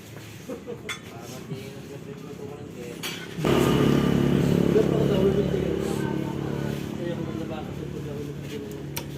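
A Kawasaki AR150 two-stroke motorcycle engine, custom-built, jumps to a loud, steady rev about a third of the way in and holds a raspy drone to the end, with people talking nearby before the engine picks up.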